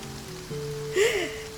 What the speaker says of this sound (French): Oh, il pleut, génial.